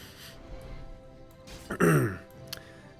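A single rough throat clearing that breaks into a short cough, close by, following a few quiet breaths.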